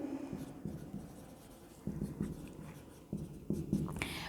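Pen or marker strokes on a board during an accounting lesson, quiet, close scratching in short bursts and taps, with no voice over it.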